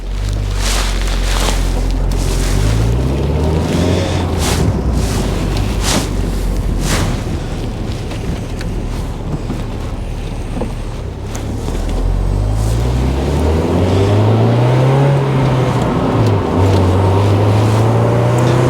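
A mid-engined MG F convertible sports car drives on a sunny day, its engine droning loudly and steadily with rising and falling pitch as it accelerates and shifts, heard from inside the car with wind noise.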